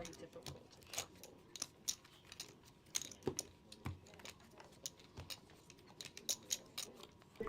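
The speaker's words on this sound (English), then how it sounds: "These cards are very difficult to shuffle" Playing cards being shuffled at a live poker table: a rapid series of crisp, papery riffling clicks and snaps that come in irregular bursts, fairly close, with faint background chatter.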